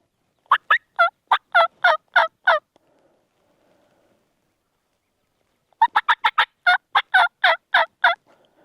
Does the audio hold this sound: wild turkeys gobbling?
yes